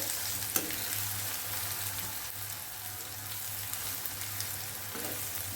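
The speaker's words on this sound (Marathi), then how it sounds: "आपल्याला छान परतून घ्यायचे हे मसाले" Chili powder and turmeric fry in a pan with a continuous close sizzle, quiet and steady throughout, punctuated by a couple of faint utensil taps and a low steady hum beneath.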